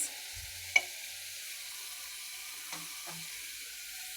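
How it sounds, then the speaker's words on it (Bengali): Pieces of kalibaus fish dropped into spiced masala in a pan for a potato curry, giving a faint, steady sizzle with a soft clink early on and a couple of light knocks later. "মাছগুলো দিয়ে দিচ্ছি মাছগুলোকে একটু মশলার মধ্যে ভালো করে কষিয়ে নেব"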